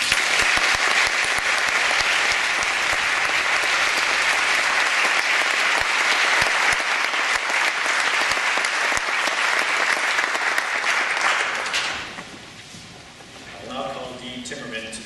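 Audience at the 2013 Monmouth College honors convocation applauds loudly and steadily for about twelve seconds, then the clapping dies away and a voice is heard faintly near the end.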